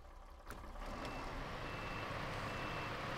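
A CAT CT680 truck in SnowRunner reversing, with a diesel engine rumbling steadily and a reverse beeper sounding clearly over it, close and fairly quiet.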